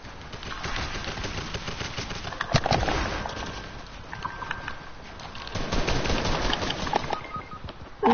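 Video game gunfire crackles in rapid bursts and scattered single shots throughout, moderately loud over a steady game soundtrack and effects, with no voices.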